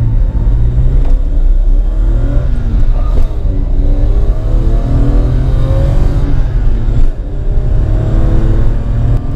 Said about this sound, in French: Et ben le bruit du 6 cylindres, on l'aime.